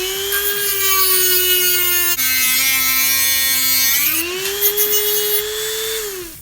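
Close, loud whine of a grinder cutting through Subaru high pressure fuel lines, a steady high motor tone that dips in pitch as it bites, then rises again, with a fast rhythmic chatter beneath it.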